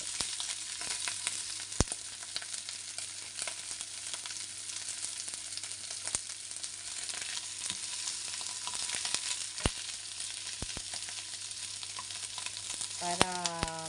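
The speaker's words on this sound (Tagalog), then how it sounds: "Okay, lagay na natin yung ating beef brisket." Beef brisket frying in a pan with a constant dense sizzle, occasional sharp pops and clicks, and a brief spoon scrape near the end, steady and close with no talking.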